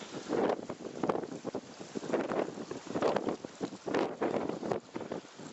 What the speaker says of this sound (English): I've just come out of the wind.